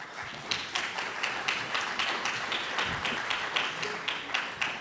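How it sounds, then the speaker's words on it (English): An audience applauds panelists at a competition event with sparse, loose clapping: individual claps ring out unevenly over a light murmur, no one speaking distinctly. "Let's give them a round of applause."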